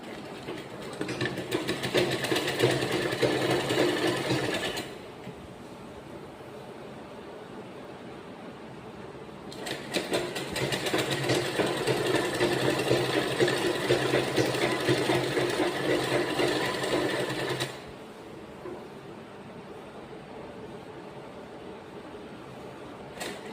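A sewing machine runs in two long stitching bursts on a girl's school uniform neck, with a steady whirring hum, a quieter pause between runs and a low residual hum after the second.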